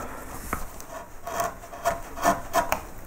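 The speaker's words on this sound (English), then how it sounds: "I'll get my gouge and I'll clean up as best I can this bit of wood here" A hand gouge carves and cleans up a piece of wood for a beer caddy with carved lettering, giving soft, close scraping and rasping strokes in an irregular rhythm, several short cuts in a row.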